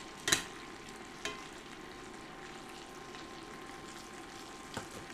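Butter sizzles quietly in a pan on an induction burner, a soft steady hiss with a few sharp taps of a utensil, close but faint.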